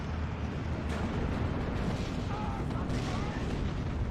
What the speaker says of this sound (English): So the Werfram is fired away, and you can see it's got this reload cycle